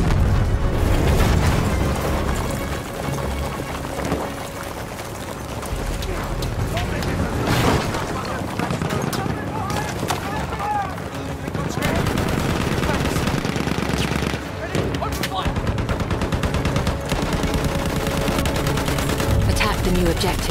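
Enemy artillery barrage in Battlefield 1 on the Sinai Desert map, a continuous roar of booming explosions and rattling gunfire layered densely for the whole stretch, loud and close.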